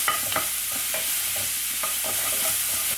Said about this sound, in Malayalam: എണ്ണ ഒന്ന് ചൂടായിട്ട് വരുന്ന സമയത്ത് നമുക്കിതിലേക്ക് നമ്മൾ നിറച്ച് ചതച്ച് വെച്ച ഇഞ്ചി, പച്ചമുളക്, അതുപോലെ വെളുത്തുള്ളി ഇട്ട് കൊടുക്കാം.